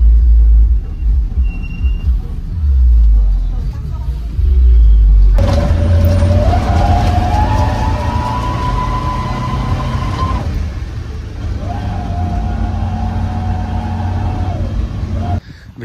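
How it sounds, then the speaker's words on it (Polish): Small colorful local minibus in Berastagi, Indonesia, rumbling steadily as it drives, its engine revving up and easing off through gear changes, loud and close from inside, with passengers on small benches. "Złapałem taki tutaj lokalny autobusik, kolorowy, siedzi się na takich małych ławeczkach"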